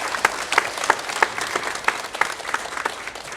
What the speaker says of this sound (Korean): 다시 한번 큰 박수로 한번 격려하겠습니다.